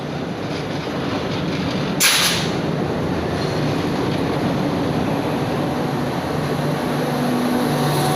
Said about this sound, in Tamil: இந்த ட்ரெயின் பார்த்தீங்கன்னா ராமேஸ்வரம் டு புவனேஸ்வர் போகக்கூடிய ட்ரெயினுங்க. செகண்ட் பிளாட்ஃபார்மில் அரைவ் ஆகிட்டுருக்கு